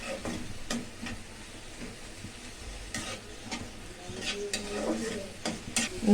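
Turmeric and chili powder being stirred and sautéed in a frying pan, a continuous close sizzle broken by repeated scraping strokes of the spoon against the pan.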